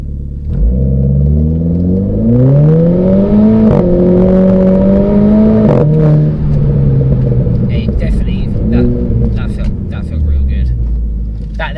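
Renault Clio RS engine revving up hard in auto, fitted with a Powerflex lower torque mount, pitch climbing then dropping at gear changes, loud and close, with a rising whine and some rattling toward the end.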